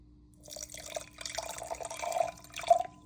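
About 40 ml of water poured from close by into a small glass holding a sachet of powdered supplement, a quiet trickle that swells and fades in short pulses with a few brighter splashes toward the end.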